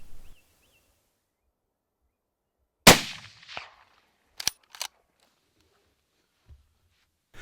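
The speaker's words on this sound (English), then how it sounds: "I just need to pick the right moment to send the bullet on its way" A single loud rifle shot fired at a roebuck from an elevated position, a sharp crack with a rolling echo trailing off, followed a second later by two brief metallic clicks of the bolt, then quiet outdoor ambience.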